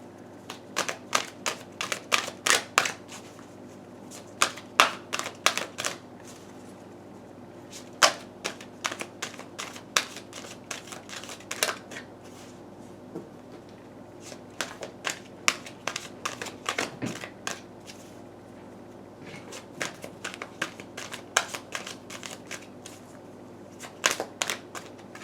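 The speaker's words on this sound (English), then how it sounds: "I was just in there shuffling, and nothing was popping out" Tarot cards are shuffled by hand, up close, in repeated bursts of crisp riffling clicks and snaps separated by short pauses, with no talking.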